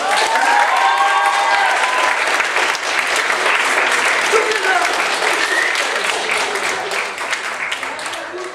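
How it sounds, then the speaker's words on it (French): Loud, sustained applause from an audience at a cosplay awards ceremony, with whistles and cheers mixed in, filling the whole stretch before tapering slightly near the end. "On l'applaudit très fort."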